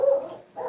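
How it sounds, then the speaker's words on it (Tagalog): A dog barks nearby in a home kitchen, giving two short, muffled yelps about half a second apart, fairly faint and with no talking. "Matawag kasi yung aso eh."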